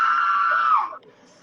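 A person lets out a loud, sustained high-pitched scream lasting about a second, then it breaks off into near silence.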